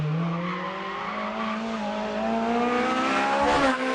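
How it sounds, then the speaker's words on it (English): A Ferrari 430 Scuderia sports car on the Fiorano circuit, its engine droning steadily and rising in pitch as it accelerates, loud and close with no talking. "Ferrari 430 Scuderia."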